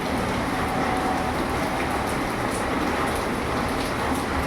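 Steady rain falling outdoors, a continuous even wash of drops with no pauses and no voices.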